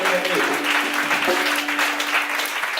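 A church congregation claps in dense, sustained applause, close and loud, with voices mixed in.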